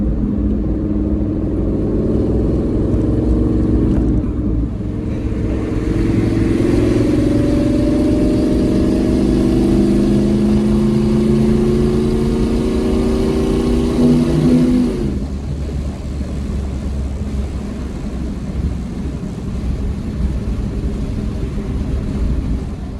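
A Ford Mustang GT S550 fitted with an eBay GT45 turbo drives under everyday conditions. The engine holds a steady drone, then builds through a long rising pull of revs for about ten seconds before backing off to a lower cruise.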